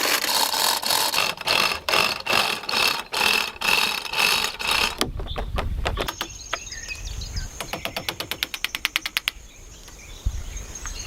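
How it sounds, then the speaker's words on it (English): A wrench tightens metal bolts and screw jacks beneath heavy wooden beams of a log cabin floor in the forest, giving a long series of loud rapid ratcheting clicks, first dense and rhythmic, then sharper and more spaced, with no talk. "The metal bolts and screw jacks under the beams are being firmly tightened with a wrench"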